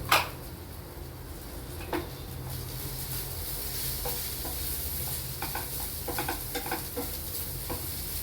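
Ripe banana, grated coconut and sugar frying in ghee in a pan, a steady soft sizzle with occasional stirring scrapes and light utensil clicks throughout, no talking.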